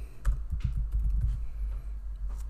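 A site name being typed on a computer keyboard: a short burst of soft, quick key clicks, close and fairly quiet, then a few scattered taps, with no talking.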